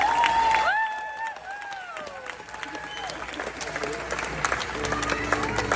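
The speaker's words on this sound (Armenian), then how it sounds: "Ծափարություններով" Guests at a grandmother's 95th birthday celebration break into applause after a few whistle-like tones, the clapping mixed with chatter and voices in the room.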